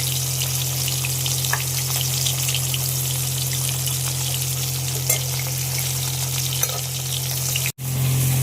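Fish pieces frying in hot oil in a pan, a loud, steady, close crackling sizzle with soft pops throughout and a brief knock near the end.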